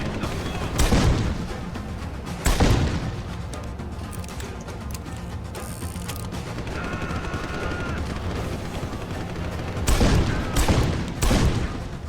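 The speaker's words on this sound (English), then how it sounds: "You need to stop all that shooting." Gunfire in Deus Ex: Human Revolution comes as several loud, booming shot bursts, spaced apart over a rumbling background of ambient game noise.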